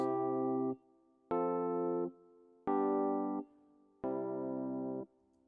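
Four sustained synth-like chords sound in turn, each held for about a second and separated by short gaps of silence. The sequence moves at an even, deliberate pace and is played back fairly quietly.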